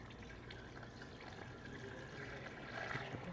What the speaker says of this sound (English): We're going to go ahead and fill up the expansion tank.